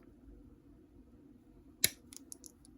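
Scissors snip once around a small tan LEGO part, a single sharp near cut followed by a few faint clicks of handling in a quiet room.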